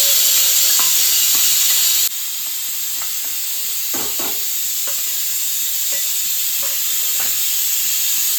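Garlic sizzles in hot oil in a pan, a continuous loud hiss that drops slightly after a couple of seconds, dotted with small pops and spatula clicks.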